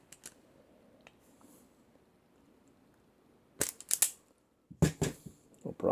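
A Capri wire stripper cutting through a two-wire extension cord, giving a few sharp, close crunchy snips in quick clusters after a quiet stretch.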